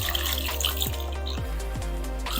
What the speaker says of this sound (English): We'll just keep right on pouring until, whoop, that's it, max line